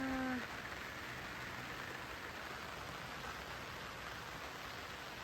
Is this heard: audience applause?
no